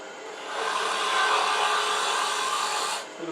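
A single pull cut on wood, likely on a lathe-mounted workpiece, produces a steady rasping, scraping hiss that builds over half a second, holds for about two seconds, then stops abruptly.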